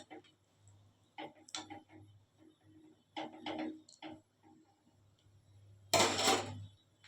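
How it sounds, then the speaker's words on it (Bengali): A spoon stirs a potato and cauliflower curry with water in a pan, making a quiet series of irregular taps and scrapes, then a short, louder burst of splashing scraping near the end. "ভালো করে নেড়ে দিচ্ছি।"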